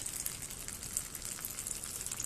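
Water pouring into a reptile's water bowl, a continuous bright splashing trickle that holds steady throughout, close and fairly quiet, with no voices.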